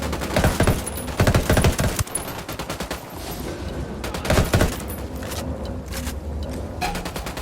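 Bursts of video game gunfire in Ghost Recon Wildlands, rapid automatic volleys and sharp shots in clustered fusillades with short pauses between, loud and close over a low rumbling background.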